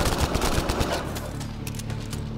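Enemy gunfire in Mass Effect Andromeda: a rapid fusillade of close, rattling shots during the first second, thinning into scattered pops over a rumbling battle backdrop, with no speech.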